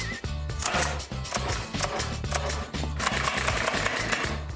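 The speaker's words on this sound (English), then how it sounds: "I'm putting the staples into the extrusion, the plastic extrusion, which is going to hold the fabric in place." A staple gun drives staples into a plastic extrusion track on a wall for fabric soundproofing in a home theater, giving rapid repeated mechanical snaps and thuds in a busy, close, continuous rhythm.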